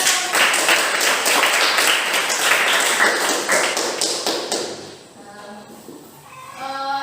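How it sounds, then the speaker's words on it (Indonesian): Students in an Indonesian classroom applaud a winning group, loud rapid clapping from many hands for about five seconds before it thins out and fades, leaving quieter room sound and a faint voice. "Silakan tepuk tangan."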